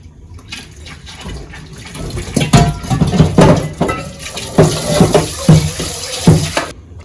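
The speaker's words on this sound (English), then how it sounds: "This onion was too dirty. Let me just wash it." An onion being rinsed under a running tap in a home kitchen sink, with steady water flow and several louder splashing bursts as it is handled, close and fairly loud with no talking.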